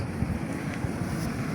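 Gusty wind buffeting the microphone outdoors on a spit between Lake Baikal and a lagoon, a steady low rumble, fairly faint, no voices.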